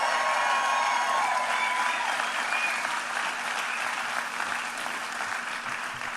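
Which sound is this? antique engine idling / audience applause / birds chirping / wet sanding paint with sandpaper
audience applause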